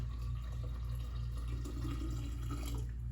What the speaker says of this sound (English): So I'm going to pour this water in.